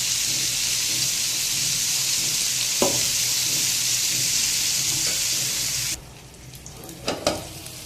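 Bitter gourd (karela) slices fry in a hot pan with a steady, close sizzle, broken by a few clinks of a utensil; the sizzle drops off sharply near the end, leaving quieter knocks and scraping.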